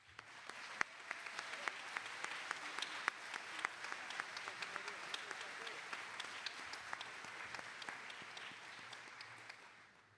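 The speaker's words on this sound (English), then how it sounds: "We can now give them a round of applause." Audience applause at a Gann Academy commencement ceremony, a dense, sustained round of clapping from a large crowd with sharp individual claps standing out, heard from a distance throughout.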